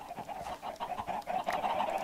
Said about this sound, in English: I think there's like 100 or so chickens up there